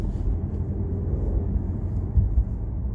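A Mercedes S560e hybrid is being driven, and a steady low engine and road rumble fills the cabin, moderately loud and continuous, with no talking.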